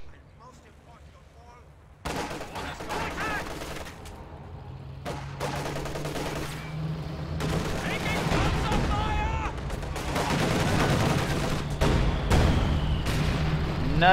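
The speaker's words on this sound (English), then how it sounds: "Pak-43 takes a shot." A Pak-43 anti-tank gun fires in a World War II strategy game, a sharp blast at about two seconds that rolls into a dense, loud battle din of further gunfire and explosions, with a voice talking underneath.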